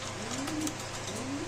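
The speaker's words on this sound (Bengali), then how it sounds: "এখানে আছে খুব সুন্দর এক জোড়া, মানে সাদা বিউটি কবুতর" White beauty pigeons coo in a cage at a pigeon market, soft rounded calls rising twice over a steady background hum, close and moderately quiet.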